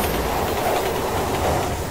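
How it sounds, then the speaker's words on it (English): A train rumbles past continuously in the video game Resident Evil 6, a loud, steady roar with clattering wheels filling the whole moment, with no talk over it. "Careful, there's a train."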